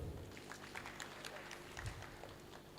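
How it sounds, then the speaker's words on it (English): Audience clapping at a children's book launch, a steady dense patter of many hands filling the room at moderate level, with some voices mixed in. "clap for him"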